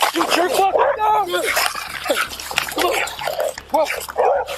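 A dog barks repeatedly amid a chaotic police arrest inside a house, its yaps mixed under loud, overlapping shouting voices throughout.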